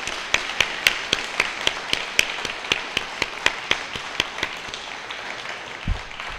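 An audience claps at a peace gathering and public-safety appreciation event for the families of service members and first responders. The claps are sparse and steady, near and clear, and they fade out near the end.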